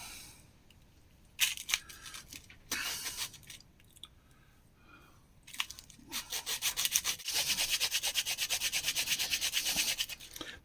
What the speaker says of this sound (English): I'm going to have to sand it down.